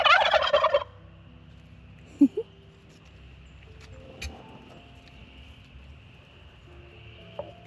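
Bourbon Red and Black Spanish turkeys gobbling outdoors on a homestead, one loud burst of gobbling at the start followed by a few short, softer calls and clucks spread over a quiet background.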